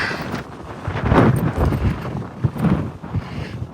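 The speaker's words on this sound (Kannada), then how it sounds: "ಎಷ್ಟು ಫ್ರೆಶ್ ಏರ್ ಬರ್ತಾ ಇದೆ ಗೊತ್ತಾ ಸಕ್ಕತ್ತಾಗೈತೆ ಗಾಳಿ ಮಾತ್ರ" Strong wind buffets the microphone on a hilltop near the Melukote temple, a continuous loud rumbling roar that swells and gusts throughout, close and unbroken, with no other sounds standing out.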